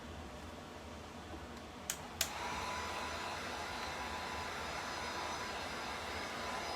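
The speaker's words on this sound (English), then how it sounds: "I'm going to hit this with the heat gun a little bit" A heat gun blows over a magnetic chalkboard with silk-screen chalk paint, a steady close whooshing roar that follows two sharp clicks and runs on without a break.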